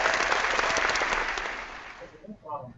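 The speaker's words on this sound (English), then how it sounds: "I love it how you clap for yourself with the button" A recorded burst of applause fired from a soundboard button, steady crowd-like clapping that fades out toward the end, with faint voices underneath as it dies away.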